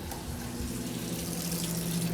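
A tap runs steadily into a sink while something is rinsed out under the stream, giving a continuous close splashing rush with no speech.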